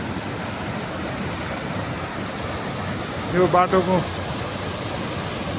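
Mountain waterfall or stream rushing beside a trail on the North ABC trek, a steady broadband wash that runs the whole time, with someone speaking briefly over it.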